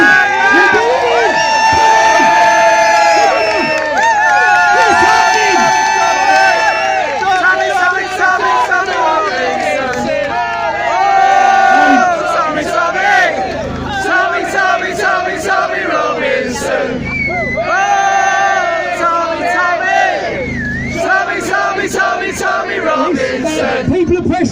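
A large political rally crowd in Preston roars, chants and cheers continuously and loudly throughout, with shouted voices rising and falling in a dense, close wall of sound.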